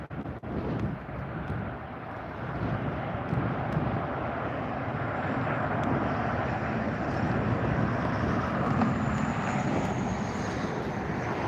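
Jet airliners coming in to land at LAX in gusty crosswinds, a steady broad engine roar mixed with wind rumble on the microphone, continuous and moderately loud, no speech.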